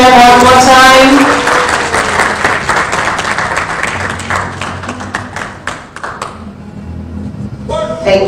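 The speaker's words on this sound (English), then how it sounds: "A big round of applause to them one more time." Roadshow audience clapping hard near at hand, the applause starting loud and full, then thinning into scattered claps before a voice comes in at the end.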